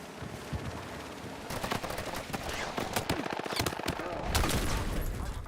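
Rapid automatic gunfire in the shooter Battlefield 6, dense bursts of shots rattling almost continuously at close range amid other battlefield noise.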